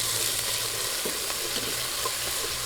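Tomatoes sauté in a pan with browned onions for pork sinigang, making a continuous close sizzle with faint stirring scrapes running under it, no voices.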